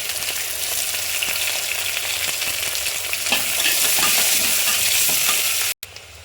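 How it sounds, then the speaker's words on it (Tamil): Shallots sauté in hot oil in a pan for chicken biryani, a loud close sizzle with scraping stirs and an occasional light clink, building slightly before cutting off abruptly near the end; no talking. "உள்ளி கொஞ்சம் பொன்னிறமாகும் வரை நன்றாக வதக்க வேண்டும்."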